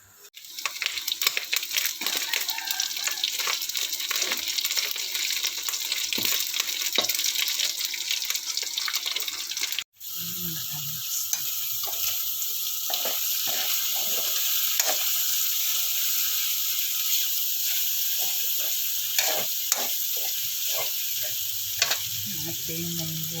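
Ingredients sizzle until crispy in a pan while cooking mung beans, a steady frying hiss broken by a short gap partway through, then running on with faint clinks and stirring.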